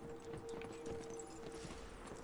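Horse hooves clip-clopping in Red Dead Online, a steady faint rhythm of game footfalls under a low background hum.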